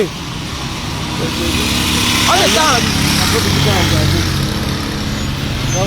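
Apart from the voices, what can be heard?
car arriving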